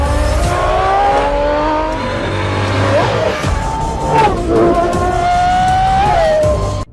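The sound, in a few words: car with 6.5-liter V12 Cosworth engine revving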